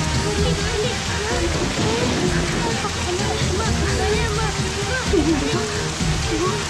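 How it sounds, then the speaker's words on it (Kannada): Dense, steady hiss of heavy rain pouring down, with people talking over it. "ಅಯ್ಯೋ, ಇಷ್ಟೊಂದು ಮಳೆ ಬರ್ತಾ ಇದ್ದೀನಪ್ಪ"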